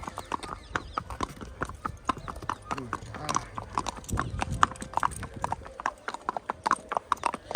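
Marwari horses on a 20 km ride give a close, steady clip-clop of hooves in a brisk, uneven rhythm, while people talk over the hoofbeats.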